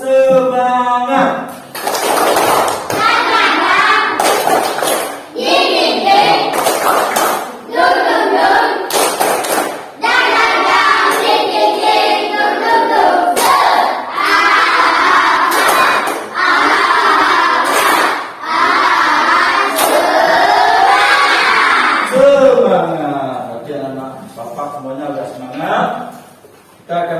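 A class of schoolchildren performs a rhythmic spirit clap chant, loud bursts of sharp claps alternating with shouted, chanted voices in a lively, repeated pattern that carries on for most of the stretch before tapering off.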